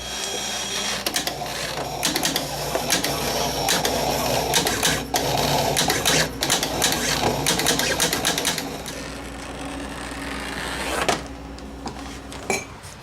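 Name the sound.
computer cutter cutting lettering stencil into rubber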